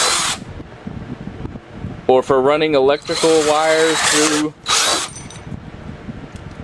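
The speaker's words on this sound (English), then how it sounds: "if we have the drilling attachment tightened into our drill, and we wanted to drill holes for mounting" A handheld power drill fitted with a drilling attachment runs in loud, steady bursts, starting and stopping several times, while a person talks between and over the motor noise.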